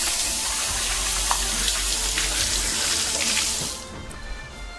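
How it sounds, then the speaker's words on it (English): A kitchen tap runs steadily, with hands being washed under it after handling seasoning for a cast iron chicken. The water is a loud, continuous close-up splash that stops abruptly near the end, leaving a quieter background. "I gotta wash my hands again because I got the pepper"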